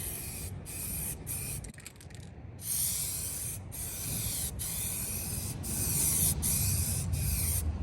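A spray can of paint hisses steadily while laying a light coat on a BMW E28 part, with brief pauses between passes and a loud, continuous spray throughout.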